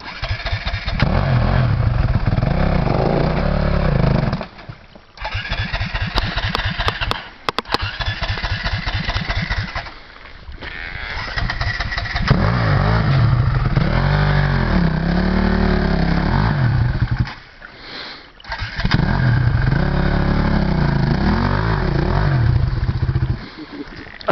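An enduro motorcycle engine starts and revs loudly up close, rising and falling with brief pauses, then idles and revs again over a sustained stretch.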